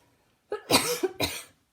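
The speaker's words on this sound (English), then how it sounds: "It makes me cough." A person coughs a few times in quick succession, close and fairly loud, with a short pause before a final cough.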